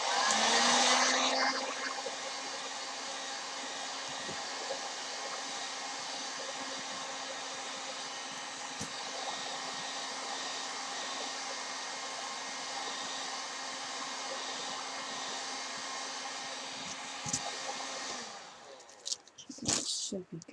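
Heat gun blowing steadily on a Worbla thermoplastic sheet for armor making, a constant whirring hiss close by that cuts off near the end, followed by a few faint clicks and handling noises.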